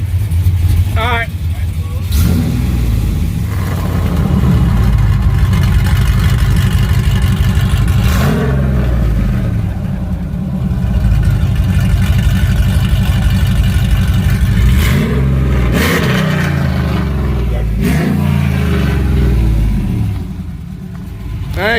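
Cammed Dodge Ram with an electric exhaust cutout revving hard, a loud, deep rumbling engine climbing and falling through several long revs with sharp bursts between, while people talk in the background.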